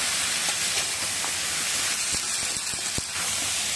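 Cut sweet pumpkin fries in a pan while being stirred, a loud, constant steamy hiss broken by a few sharp scrapes and knocks of the spoon near the end.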